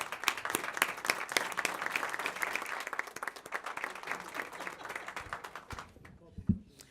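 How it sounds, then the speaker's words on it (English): An audience at a city council meeting applauds, dense clapping that holds for several seconds and then tapers off into quiet. "Let's give them another round of applause."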